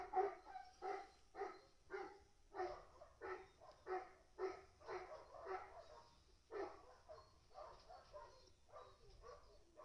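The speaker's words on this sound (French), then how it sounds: "mon chien est en train de se battre, je crois, à côté" A dog barks repeatedly next door, a rapid series of muffled, slightly distant woofs and yips in an uneven rhythm, as if fighting with a neighbour's dog, with no talk over it.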